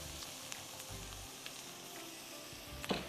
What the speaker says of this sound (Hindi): प्याज को अच्छी तरह आपने ब्राउन करना है, घी में या मक्खन में, तेल में,